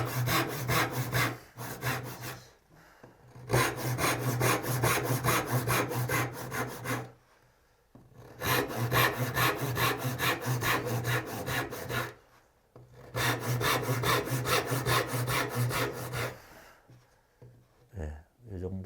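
Long rhythmic strokes of a hand saw cutting a wooden tenon for a dovetail joint, with steady back-and-forth rasping in three extended bursts separated by short pauses, close and loud.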